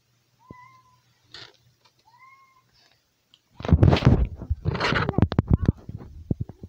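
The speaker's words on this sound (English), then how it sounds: "Meowing cat." A house cat gives two or three soft, thin meows, then a louder, closer burst of rough yowling and rapid vocal calls follows.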